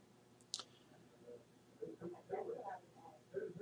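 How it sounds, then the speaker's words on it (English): A mouse gives one sharp click while selecting a contact's name in Skype, followed by quiet voices talking faintly in the background. "by clicking on his name"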